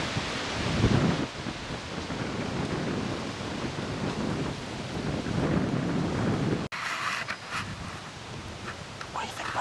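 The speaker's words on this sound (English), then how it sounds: "What do you think about the wind, Liv?" Wind gusts roar steadily across a microphone in the woods during a Pennsylvania spring turkey hunt, a broad rushing noise close to the mic that cuts off abruptly near the end, with faint voices underneath.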